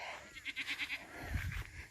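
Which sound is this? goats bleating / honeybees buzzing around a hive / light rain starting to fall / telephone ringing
goats bleating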